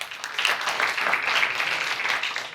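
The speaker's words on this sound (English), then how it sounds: "But please give a round of applause for Harry and Michael." Audience applause at a blockchain track conference session runs as a steady wash of many hands clapping, moderately loud and continuous for a couple of seconds.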